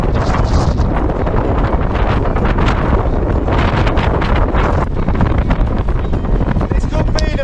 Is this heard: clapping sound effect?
no